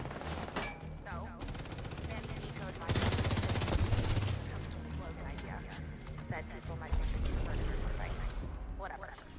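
Rapid automatic gunfire and scattered shots in a Ubisoft video game, dense bursts of close loud firing with louder volleys, while someone talks over the shooting.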